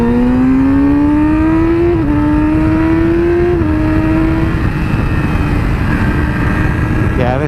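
A 2017 Yamaha R6 motorcycle pulls hard after downshifting, its engine whine climbing in pitch through successive gears with brief drops at each shift, loud and close under heavy wind noise.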